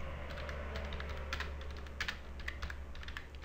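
A comment is typed on a computer keyboard while setting up a web radio station, with quick, steady key clicks up close over a constant low electrical hum.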